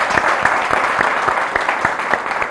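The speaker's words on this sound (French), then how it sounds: "On l'applaudit." A crowd claps loudly, individual sharp claps standing out from the dense applause, sustained without pause.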